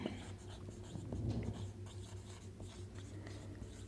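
Pen scratching on paper while working a math problem, a quiet steady scribble over a faint low hum.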